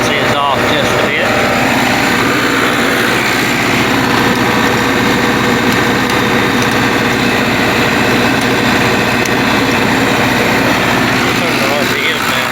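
A 40,000 watt generator engine runs steadily and loudly close by, a continuous droning hum with a rough, pulsing texture that holds throughout, with voices talking over it.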